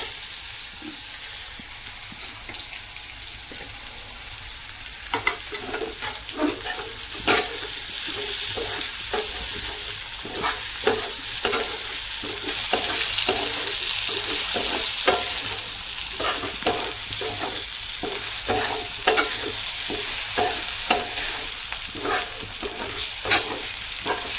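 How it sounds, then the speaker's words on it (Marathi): Chopped tomatoes frying in a pan with onion, chili and garlic, stirred in a steady rhythm of scrapes over a constant sizzle for about twenty-four seconds, with no voices. "त्यामध्ये कापलेला आपण टोमॅटो टाकूया तो पण चांगला हलवून देऊया"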